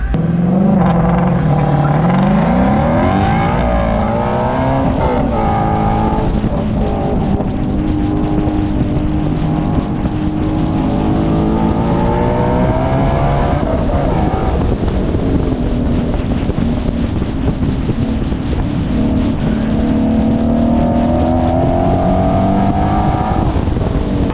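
BMW 3 Series and Ford GT350 Mustang at a spectator drag event, loud engine roar with rising gear-shift sweeps and heavy wind buffeting, sustained and close.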